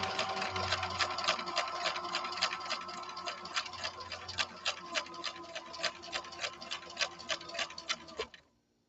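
A 1970s Viking Husqvarna 6030 sewing machine stitches in slow gear with a rapid, regular ticking of needle strokes over a motor whir, close up. It runs steadily, then winds down and stops.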